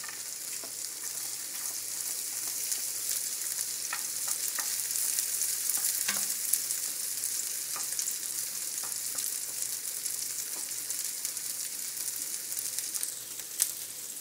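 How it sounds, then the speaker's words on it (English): Chopped garlic and onion saute in a hot pan alongside tofu, giving a steady close sizzle throughout with occasional scrapes and taps of a stirring utensil. "We're going to start our saute of onion and garlic while we have the tofu in the pan"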